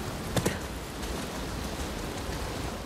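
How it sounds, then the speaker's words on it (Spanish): Steady rainfall in the video game Uncharted 4: A Thief's End hisses as a constant wash of noise, with a couple of sharper drop-like taps early on; no voices. "Y ya está lloviendo, gente."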